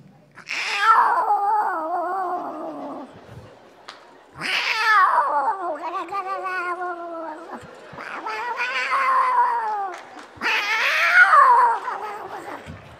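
A storyteller's voice imitates a cat fighting a dog, with four long, loud, close wavering yowls and snarling cries separated by brief pauses.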